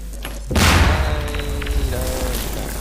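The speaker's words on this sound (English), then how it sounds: "Who's throwing grenades?" A grenade goes off in Garry's Mod, a loud, close boom with a rumbling tail that fades over a couple of seconds while players talk.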